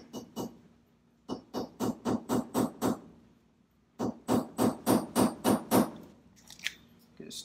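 Small hammer tapping a pin into a PSA 10.5-inch rifle kit part, sharp metallic taps in two quick runs of about eight strikes each, close and crisp with short pauses.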